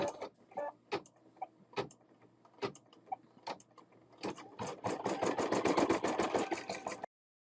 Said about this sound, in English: So I'll put my presser foot down again and just hit go.